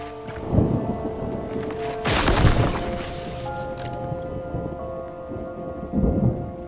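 Rain falls steadily in Mind Over Magic while thunder cracks and rumbles loudly a few times, one big crash in the middle and smaller booms before and after, with background music tones underneath.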